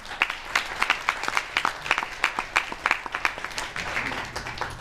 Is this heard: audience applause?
yes